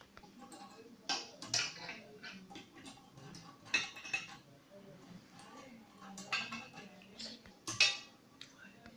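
Metal adapters on a sliding shutter are dragged and shifted into position, making faint, close scraping and light metallic clinks in irregular bursts over a quiet background.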